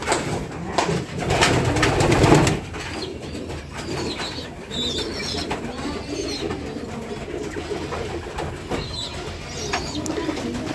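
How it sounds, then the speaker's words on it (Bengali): Native doves and pigeons coo indoors in a pigeon house, soft repeated rolling calls close by over a low ambient background, with a brief rustle of wings. "এটা আমাদের দেশি ঘুঘু।"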